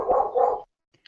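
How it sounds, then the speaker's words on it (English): A dog at a podcast host's house lets out a single harsh, double-pulsed bark up close, then falls silent. "There is a dog."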